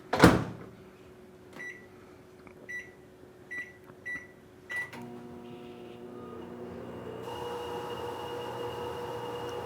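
Full-size microwave oven running poorly on a power station inverter: a few door and button clicks with beeps, then a rising, strained electrical hum and whine that settles into a steady loud drone.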